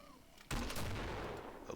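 An M32 grenade launcher fires once in the video game Killing Floor, a sudden loud blast after near-silence that rolls off into a decaying rumble, with a faint second pop near the end.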